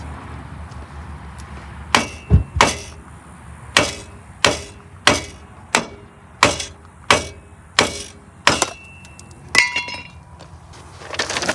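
A hammer taps on a stuck front hub bearing during a roadside repair on an Avalanche 4WD: about a dozen sharp, ringing metallic strikes, evenly spaced and loud, with nothing else heard between them.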